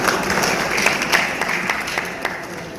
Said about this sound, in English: So ladies and gentlemen, to give a round of applause